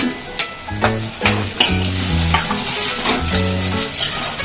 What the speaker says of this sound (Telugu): ఇప్పుడు పచ్చిమిర్చి కరివేపాకు